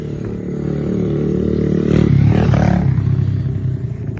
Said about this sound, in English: That's a motorcycle.